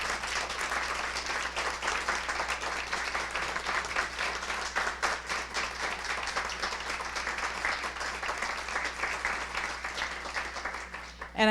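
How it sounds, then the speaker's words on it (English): A school audience applauds staff members who have stood up at an evening meeting, steady dense clapping from a sizable crowd, sustained and even throughout. "Let's give them a round of applause."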